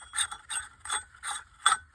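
A Pflueger Oceanic freespool surfcasting reel is turned by hand, giving five close, evenly spaced bursts of mechanical ratcheting clicks about every third of a second, with no talking.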